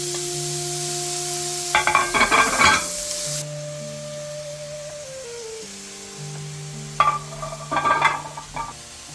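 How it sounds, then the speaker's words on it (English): Spiced vegetables for a pie filling are stirred in a pan, two bursts of scraping and clatter against a soft steady sizzle and low background hum. "mixed everything well so the vegetables were coated nicely"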